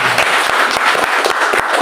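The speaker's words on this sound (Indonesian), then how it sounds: "Tepuk tangan buat Tuhan." Congregation at a church worship service in Jakarta breaks into loud, sustained applause, dense clapping filling the whole stretch with no talk over it.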